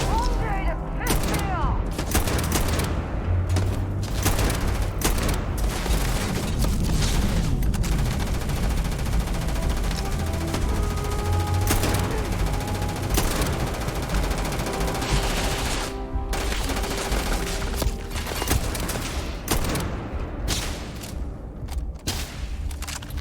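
Sniper rifle and other gunfire in the video game Starfield, dense and continuous over a loud game soundtrack, with sharp shots and booms throughout and a voice talking in places.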